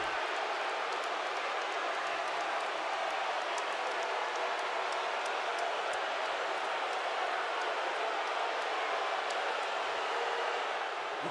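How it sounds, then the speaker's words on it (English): A wrestling arena crowd at a Raw event roars in a steady, dense wash of noise that holds at the same loud level throughout, with scattered sharp cracks rising above it. "Listen to the roar of this crowd."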